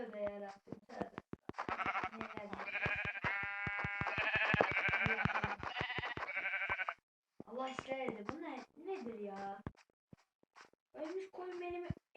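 Repeated sheep bleats from Minecraft, quiet and close, come in short bursts with pauses between them, mixed with soft clicking sounds.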